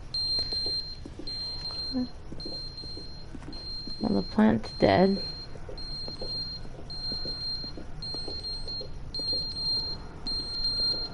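Shrill electronic alarm beeps repeat at a steady pace throughout, continuing under a short stretch of a man's speech partway through.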